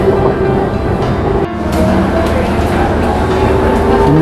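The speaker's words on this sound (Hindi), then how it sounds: "ट्राम अपनी मंजिल की तरफ जा रही है।" A tram running through Barcelona, heard from inside as a steady loud rumble and rolling hum with a brief dip partway through, continuing throughout.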